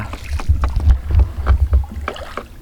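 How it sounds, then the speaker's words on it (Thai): A small boat moves across floodwater, with close, loud rushing and sloshing water plus wind buffeting on the microphone, rising and falling over a few seconds without talk. "นี่คือเรือที่เฮาขี่ ที่จะไปเบิงมอง ไปยามเบิงมองว่าสิถึกสิได้ปลาหรือบ่"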